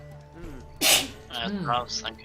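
One sharp, loud sneeze bursts out during a tabletop Dungeons & Dragons one-shot session, with people talking quietly before it and a voice speaking again right after.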